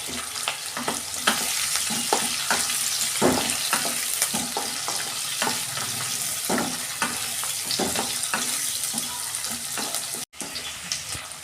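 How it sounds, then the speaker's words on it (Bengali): Chopped onion, ginger and garlic frying in hot oil with dried chillies for chilli chicken, a dense continuous sizzle broken by frequent stirring scrapes, close and steady with no talk. "এগুলো একটু ভাজা ভাজা করে নিয়ে তারপর ক্যাপসিকাম দেবো"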